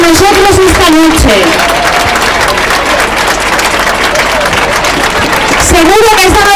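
A large crowd applauds loudly at the Santiago Apóstol town festival in Collado Villalba, Madrid, a dense sustained roar of clapping and cheering, with an amplified voice speaking over it at the start and end.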